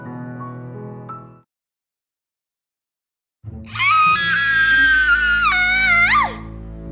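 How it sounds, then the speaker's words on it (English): After a short tonal sound and a silent pause, a loud, shrill scream rises and wavers for a few seconds before cutting off. "The screaming echoed within the halls"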